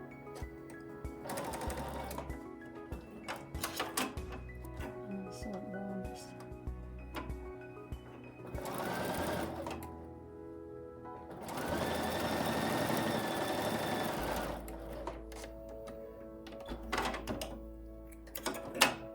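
Close, quiet bursts of a sewing machine stitching a nine-patch quilt square, with short whirring runs and longer steady stretches of stitching separated by pauses and handling noises.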